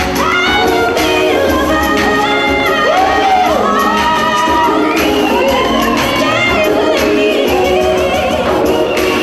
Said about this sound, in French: merci, applaudissez, levez-vous pour Solange.